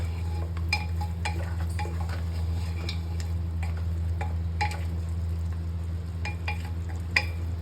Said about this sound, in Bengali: তো মটনটা থেকে জল বেরিয়েছে, তো এটাকে নাড়িয়ে চাড়িয়ে নেব